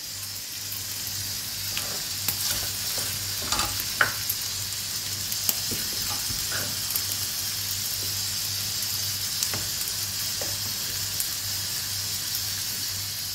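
Rice toasting in a pan for piryan pilaf, giving a steady close sizzle with scattered clicks and scrapes as it is stirred, and no talking.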